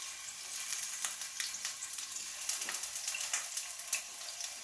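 Cubes of paneer fry in hot ghee in a pan with a soft, even crackling sizzle and scattered pops, close but fairly quiet, with no talking.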